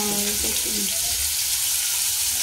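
Frying in oil in a home kitchen where hilsa fish and chili are being fried, a steady hissing sizzle, with brief voices mixed in at the start.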